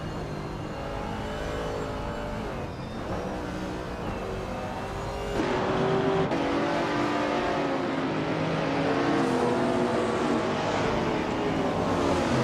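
Racing cars, including a 1966 Shelby Cobra 427C, drive during a race, a steady engine drone with shifting pitch that grows louder midway, no talk.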